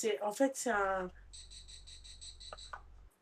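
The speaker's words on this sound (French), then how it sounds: "C'est une cigale." A cicada buzzes steadily in pulsing bursts after a brief stretch of speech, fairly faint and continuing alone with a low hum beneath until it stops near the end.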